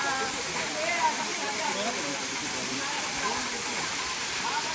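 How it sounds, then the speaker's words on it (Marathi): Small waterfalls at Wagherapada send out a continuous rushing roar of falling water, steady and fairly loud throughout, with a faint voice blurred beneath the noise. "मस्त चारी साईडून बघा, सगळीकडे वॉटरफॉल आहे छोटे छोटे"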